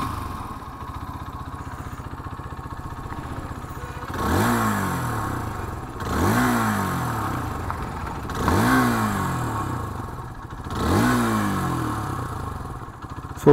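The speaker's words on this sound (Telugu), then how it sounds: "సో ఇది ఈ బైక్ యొక్క ఎగ్జాస్ట్ నోట్." A Hero Xtreme 160R 4V motorcycle idles steadily up close, then its exhaust rises in four evenly spaced throttle blips, each climbing and settling back to idle, with no talking.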